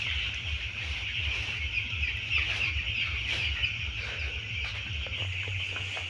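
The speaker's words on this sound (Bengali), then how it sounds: "দেখেন মুরগিগুলা লাড়াচাড়া দেওয়া হচ্ছে।" A shed holds about two thousand week-old broiler chickens, cheeping and clucking constantly as they are stirred on the floor, a dense, steady flock chorus with no talk.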